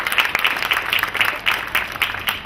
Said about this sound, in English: have a great round of applause for these fine ladies